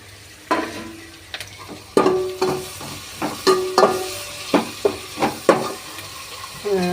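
Tomatoes go into onions frying in oil for a bitter gourd kara kuzhambu, giving a series of sharp clattering stirs and scrapes over a soft sizzle, near and fairly loud, with no talking.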